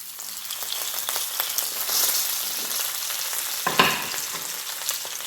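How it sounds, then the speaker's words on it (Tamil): Onions and curry leaves hit hot oil for a tempering, giving a loud, dense crackling sizzle with one sharp clatter near the end and no voices. "இனி இந்த தாளிப்புக்கு தேவையான வெங்காயம் போடுவோம். கறிவேப்பிலையும் போடுவோம்."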